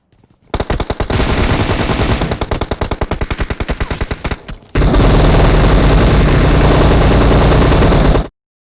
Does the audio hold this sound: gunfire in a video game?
yes